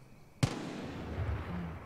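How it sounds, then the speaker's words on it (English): A single sharp gunshot in Far Cry 5 cracks out fairly close and loud, then decays into a long echoing tail with a faint low rumble afterward. "I think that's Kenny that is shooting"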